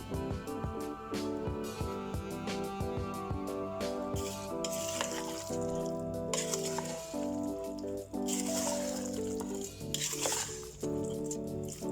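Fried onions stirred into mutton khichda in a cooking pot, with steady sizzling and frying crackle, scattered wet stirring and squishing sounds, and a few louder bursts of spitting oil.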